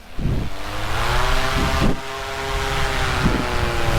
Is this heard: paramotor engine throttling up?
yes